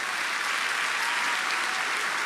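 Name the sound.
audience applause at graduation ceremony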